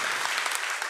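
An audience at a web design conference claps for a departing presenter, a dense, even burst of many hands at full strength for under a second.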